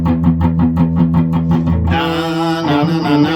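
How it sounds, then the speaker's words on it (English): Distorted electric guitar played in E, opening with a steady run of chunky palm-muted chugs before ringing out into sustained, fuzzy chords, loud and close with no talking over it. "Got a little distortion on it now here. And there's a lot of chunking going on."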